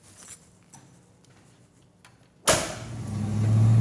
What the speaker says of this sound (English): I left the windows down so you guys can hear that glorious 5-liter